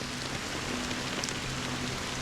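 Steady rain falls on surfaces in a Honkai Star Rail game scene, a dense, even hiss that continues unbroken throughout with no voices.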